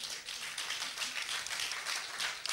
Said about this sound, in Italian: Doveroso l'applauso.